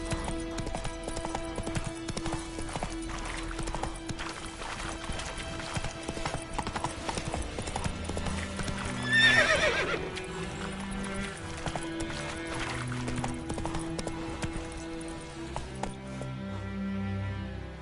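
A horse galloping in the Witcher 3 video game, with rapid rhythmic hoofbeats throughout and a loud whinny near the middle, set against game music.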